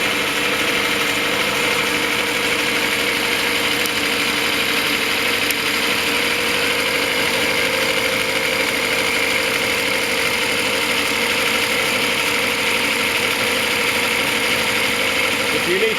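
A Reliant engine from a Bond Bug runs at a steady idle on a bench test inside a shed, with a continuous close mechanical drone and vibration that holds unchanged from start to finish.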